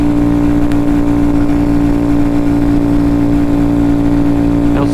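Honda Grom motorcycle engine labouring up a hill, a loud, steady, close droning hum with a strong constant tone and no audible talk.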